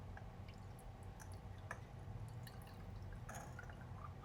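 Water poured into a jar for a prosperity bowl, heard as light, irregular drips and splashes at close range over steady background hiss, with no talking.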